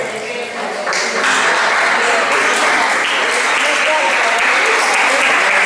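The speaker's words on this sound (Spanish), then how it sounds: "Eso es el aplauso para ellas." A hall full of people at a women's association trophy presentation during patronal fiestas claps for the winners, a loud, sustained wash of applause with voices mixed in beneath it.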